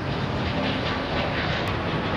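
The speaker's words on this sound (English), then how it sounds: "flight KN5216 from Chengdu enters the landing route to Daxing International Airport" Passenger airliner on its landing approach to Daxing International Airport, a steady, loud broadband engine roar holding throughout without a break.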